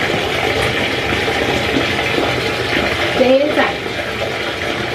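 Running water pours steadily into a tub for a dog's bath, a constant near hiss and splash while a person speaks softly over it.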